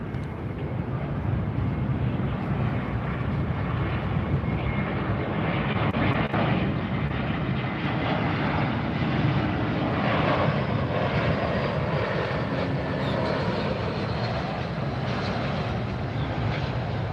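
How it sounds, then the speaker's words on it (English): An American Airlines Airbus A321neo jet passes at Fort Lauderdale, its engines giving a steady, loud broadband roar that holds throughout, with breezy wind noise underneath. "Here comes another A321neo."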